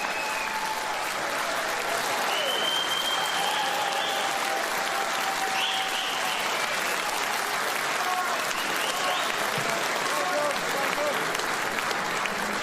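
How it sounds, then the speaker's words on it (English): A large crowd in Sunderland stands applauding and cheering at a political rally, sustained dense clapping with scattered whistles and shouts, loud and continuous throughout. "this is the first time ever that a crowd in Sunderland have stood up and cheered you"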